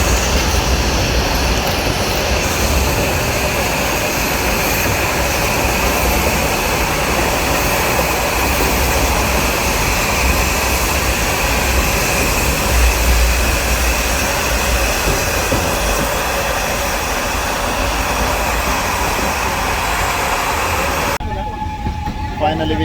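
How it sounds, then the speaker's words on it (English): Swiss-built steam locomotive working up a rack railway through hills in India, a steady loud rumbling roar of train and machinery running without a break, cutting out abruptly at the very end. "So this is that thing helping the train to climb up."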